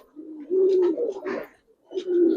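Pigeons cooing at a pigeon seller's, throat-puffing birds giving low repeated coos in two near, clear bursts with a short gap between.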